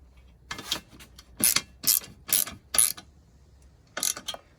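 A ratchet fitted with a 5mm Allen socket turns bolts in short bursts of clicking, about six brisk ratcheting strokes separated by brief pauses, close and fairly quiet.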